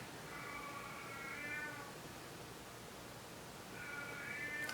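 Domestic cat meowing indoors, two faint, drawn-out calls separated by a pause, heard over a steady hiss of background noise.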